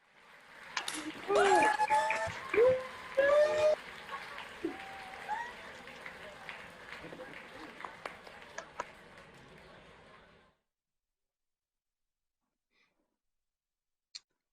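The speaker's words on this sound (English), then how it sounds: "please unmute your mic and applaud your fellow graduates." Graduates at an online university graduation ceremony applaud through unmuted microphones, scattered clapping with some voices layered over it for about ten seconds, then fading out to near silence.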